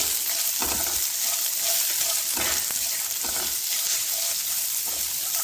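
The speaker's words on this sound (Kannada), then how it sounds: "ಈಗ ಏನು ಕೆಂಪು ಮೆಣಸನ್ನ ತಗೊಂಡಿದ್ದೀನಿ ಅದನ್ನ ಹಾಕಿ ಹುರಿತಾ ಇದ್ದೀನಿ." Red chillies and chopped small onions fry in a pan, a loud, dense close sizzle with several rhythmic scraping stirs of the spoon and no talking.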